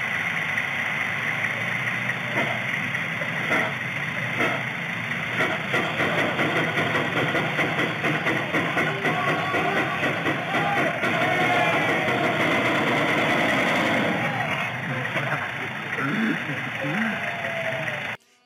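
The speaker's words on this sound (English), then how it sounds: "1906 steam tractor. And it's gonna engage a tug of war against a modern diesel John Deere tractor." A 1906 steam tractor strains against a modern John Deere diesel tractor in a tug of war, giving a loud, steady engine drone that runs unbroken for the whole stretch while a voice talks over it.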